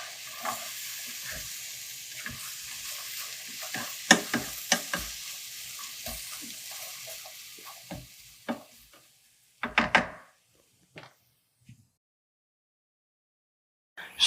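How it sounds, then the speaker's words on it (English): Honey-glazed carrots sizzle in a skillet while being tossed and stirred, with steady frying hiss and scattered clinks of utensil on pan, fading near the end to a few isolated scrapes. "Let's give these carrots a little bit more of a toss and shake."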